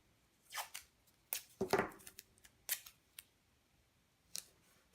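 Masking tape is torn and pressed down to mark the bottom corners for screen-print registration, giving a few short, sharp rips and taps spaced across a quiet room, close and distinct.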